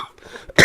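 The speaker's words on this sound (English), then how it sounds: "I'm still dealing with this cough, and I don't know when it's going to quit" A single short, sharp cough from a news presenter bursts out at the end after a moment of quiet, close and loud.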